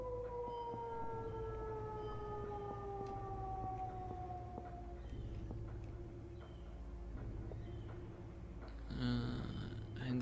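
Civil defense siren sounding during a test in the video game Shenmue, a steady rising and falling wail over low background hum, moderately distant, with no speech.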